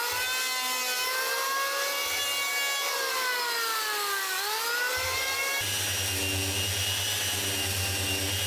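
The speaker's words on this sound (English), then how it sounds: "I'm going to do that just by using a special power plane where I've ground the blades to be a slight convex shape" A power plane with its blades ground to a slight convex shape cuts camber into a wooden deck beam for a boat rebuild, producing a steady high whine that dips and rises in pitch, then a deeper motor hum.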